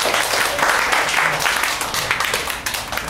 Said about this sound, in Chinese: 给自己一个掌声鼓励